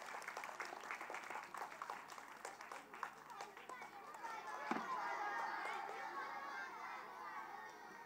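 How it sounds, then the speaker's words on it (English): An audience applauds children after their school annual day performance of The Pied Piper, a dense, steady patter of many hands clapping with lively crowd chatter and children's voices mixed in, swelling toward the end. "Give them a big hand."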